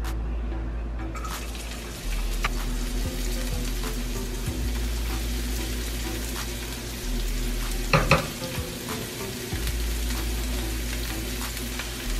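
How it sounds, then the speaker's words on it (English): Onions and celery fry in olive oil in a pan for a traditional Thanksgiving stuffing, a steady close sizzle with occasional stirring clatter and a sharper scrape near the middle. "I'm just gonna add some olive oil to the pan, and then I'm gonna go ahead and add our onions and our celery in."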